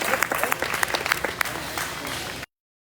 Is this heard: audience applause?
yes